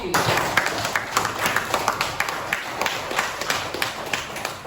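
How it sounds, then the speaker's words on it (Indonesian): A classroom of students gives a short round of clapping for a classmate during a lesson, uneven claps rising and tapering over a few seconds, fairly close. "Tepuk tangan untuk Sofi."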